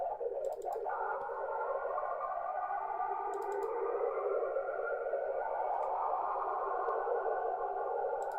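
Steady amateur radio receiver noise on lower sideband, a dense hissing, warbling wash with faint garbled tones and brief clicks, continuous and fairly loud with no speech.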